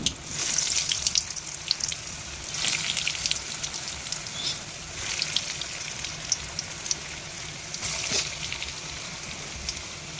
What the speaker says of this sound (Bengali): তেল গরম হয়ে গেছে, এখন আমি এগুলোকে আস্তে করে ছেড়ে দিচ্ছি।